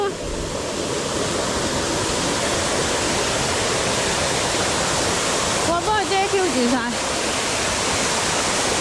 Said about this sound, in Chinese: 有瀑布喺度啊！